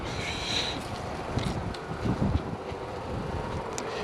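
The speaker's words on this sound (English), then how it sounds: "It's a little bit windy right now" Wind blowing outdoors beside a parked 2023 Nissan Altima, a steady rushing roar buffeting the microphone with low rumble and a few faint gusty swells, no voices.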